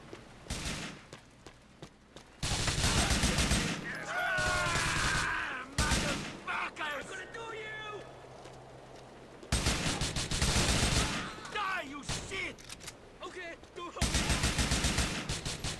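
Gunfire aimed at the player in Grand Theft Auto IV comes in loud, dense bursts of rapid shots, stopping and starting several times, with quieter stretches between the volleys where street sounds come through.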